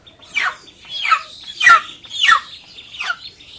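A chicken clucks five times in a steady, evenly spaced series of short, bright calls, fairly close and clear with no talking.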